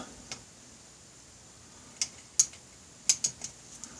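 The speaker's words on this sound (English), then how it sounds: "Let's loosen that bolt." A wrench or ratchet clicks while loosening a valve bolt on a Honda Rebel 250 motorcycle: a few sharp, close metallic ticks in short irregular clusters, separated by quiet gaps.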